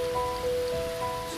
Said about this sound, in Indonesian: Sekarang kuat, sangat kuat hujan.